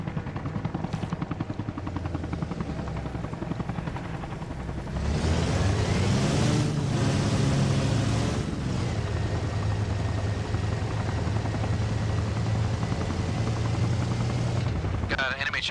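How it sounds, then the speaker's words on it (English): An enemy helicopter in a military shooter game, heard at a distance near the coast as a steady rotor drone that swells louder partway through as it takes off, with bursts of gunfire mixed in. "Got an enemy chopper north of us, down by the coast, sounds like."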